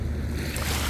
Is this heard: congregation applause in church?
no